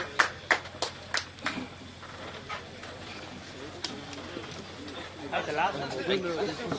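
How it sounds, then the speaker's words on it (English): At the Southern Offroad Challenge 2023 event, a few sharp, scattered claps ring out for the marshals near the start, then fade into people chatting and talking nearby. "Round of applause to all the Marshals"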